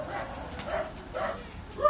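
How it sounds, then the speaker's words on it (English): Several dogs bark and yip in greeting at a grooming shop in Osaka, Japan, with a few short, moderately close bursts standing out over a quiet background. "You can hear the dogs giving them the greeting here."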